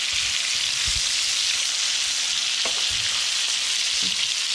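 Red snapper fillet frying in a butter bath gives a loud, dense, unbroken sizzle up close, with a few soft knocks and scrapes of a utensil in the pan.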